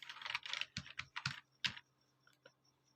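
Keys clacking on a computer keyboard while code is typed, in quick uneven bursts of keystrokes with short pauses, close and fairly clear, no voices.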